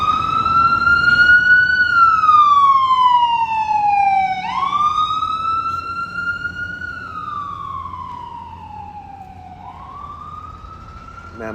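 A police siren wails outside, its tone sweeping slowly up and down in long, loud cycles that fade a little as it passes, with a low road rumble beneath and no voices.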